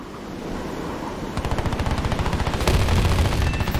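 Rapid machine-gun fire from an F-89B jet's cannons in War Thunder, a steady close burst of rattling shots that starts after a moment of engine drone and grows louder, over continuous rushing engine noise.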